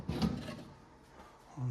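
Kitchen drawer in alder cabinets, one fitted under the stove, pushed and sliding open: a short wooden rumble near the start, a quieter stretch, then a second soft thud as it settles, close by.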